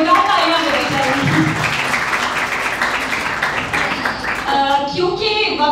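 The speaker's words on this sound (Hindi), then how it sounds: "इस बात पे बहुत जोरदार तालियां बजाई जाएंगी" Audience applause at a panel discussion swells as a steady, broad clatter of clapping, continuing throughout beneath a speaker's voice.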